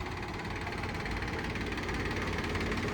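A tractor engine running steadily while it pushes a horse-drawn-style trolley powered through the PTO. The low, continuous mechanical rumble has a faint knocking texture and holds an even level throughout, with no voices.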